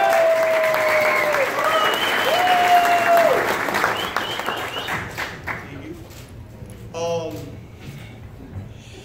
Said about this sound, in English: Big round of applause for Nikita Ababi.